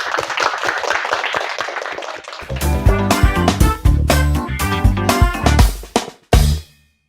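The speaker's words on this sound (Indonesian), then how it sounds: "Tepuk tangan dulu dong." Brief clapping from a small audience at a youth talk show, a couple of seconds of scattered hand claps that give way abruptly to loud pop music with rhythmic beats.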